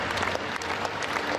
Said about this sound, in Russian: В родной Алмате чемпиона как большого артиста провожали овациями.